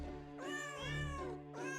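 A cat in Jingle Cats meows twice, close and clear, with drawn-out pitch-bending calls and a brief start of a third.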